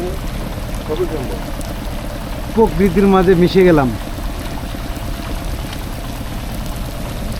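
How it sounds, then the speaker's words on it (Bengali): Steady rain falls on a moored premium houseboat on Tanguar Haor, a constant close hiss and patter that runs throughout, while a voice speaks briefly over it midway. "রিম রিম রিম রিম বৃষ্টি পড়তেছে আর আমাদের নৌকাটা দাঁড়ায় আছে"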